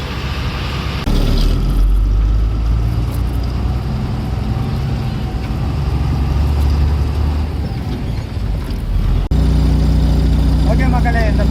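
A lorry's diesel engine rumbles low and steady as it pulls into a roadside parking area on a load run from Hyderabad toward Cochin, with someone speaking over the idling drone.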